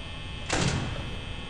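A door closes in the Five Nights at Freddy's VR horror game, a brief mechanical whoosh and thud followed by a low rumble, then a second sharp clunk at the end, with no talking.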